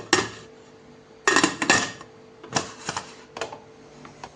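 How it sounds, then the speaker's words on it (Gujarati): A pressure cooker lid being closed in a home kitchen, giving a few sharp metallic clanks and clicks in short bursts with brief pauses between them. "હવે આપણે કુકરનું ઢાંકણ બંધ કરી દઈશું."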